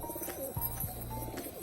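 A pet red Gorra pigeon, a pure Bangladeshi breed, gives a low, soft cooing call that swells in the middle of the short stretch against faint background noise. No one talks.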